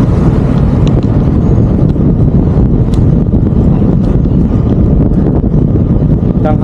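Heavy, constant wind rushing and buffeting past the microphone while riding a bicycle on a cool midday commute to work, a loud steady roar with no pauses.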